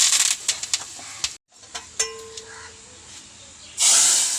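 Curry leaves dropped into hot oil for tempering a mango pulissery give a loud hissing sizzle, with a sharp burst at the start, a brief quiet gap, short crackles and a strong renewed hiss at the end.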